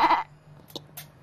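A person imitates a goat's bleat with one short, strained, nasal burst of voice, followed by a faint quiet pause and a few soft clicks.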